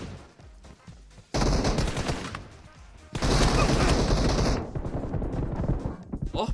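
PUBG Mobile gunfire erupts in two loud, dense bursts of close shots, separated by a brief quieter gap, with faint game ambience before and after.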